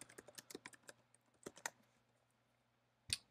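Fingers type a search on a computer keyboard in quick bursts of close key clicks, then pause under a low electrical hum before one final sharp keystroke.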